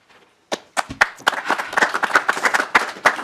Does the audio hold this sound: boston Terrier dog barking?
no